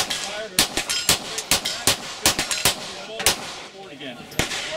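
Pistol shots at a busy outdoor shooting range crack in rapid, irregular succession, a dozen or so sharp reports from nearby and neighboring lanes over a constant background of range noise.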